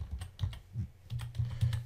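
Keys on a computer keyboard are tapped in a quick, uneven run of about eight soft clicks while code is entered in Excel VBA, close and fairly quiet with no talking.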